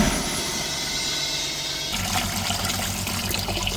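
Water gushes through a diesel particulate filter from a Peugeot Boxer, flushing ash out into a bucket; a continuous loud splashing rush that turns coarser and more turbulent halfway through.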